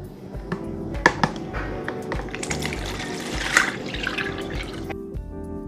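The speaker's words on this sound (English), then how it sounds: "In another bowl, I'm just gonna add the coconut milk." Coconut milk pours into a bowl in a soft, steady liquid stream with small splashes and drips, close by and moderately loud, stopping near the end.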